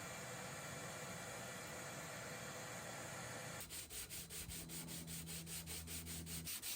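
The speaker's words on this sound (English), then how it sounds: "I now start the long process of sanding through all the grits" Steady abrasive sanding on cedar wood, loud and close, shifting partway through to a rhythmic back-and-forth rasp with a low motor hum underneath.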